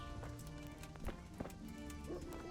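A horse trots up with clip-clop hoofbeats in the Kingdom Come: Deliverance video game, steady and moderately close over ambient game sound.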